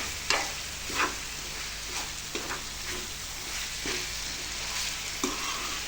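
Chicken frying in a pan for a dhaba-style dish, a steady sizzle with spatula scrapes and stirs recurring roughly every second.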